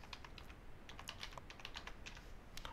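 Login details are typed on a computer keyboard in a quiet, steady run of light, quick key clicks, close but faint.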